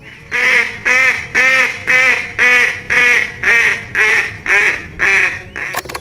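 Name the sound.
duck or goose quacking, from a toy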